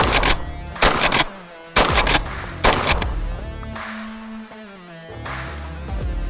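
A Benelli M3 Super 90 shotgun fires buckshot in three loud, evenly spaced blasts, each with a sharp report and a short echo. Mechanical clatter and a low hum fill the gaps between shots.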